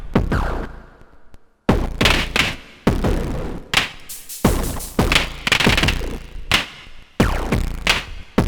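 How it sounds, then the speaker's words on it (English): Soma Pulsar 23 drum machine kick drum with modulated pitch, striking a string of heavy, loud thumps in an irregular, unquantized rhythm broken by short gaps. "always modulating the pitch of the kick drum, which gives a really nice flapping flap, what you're hearing right now."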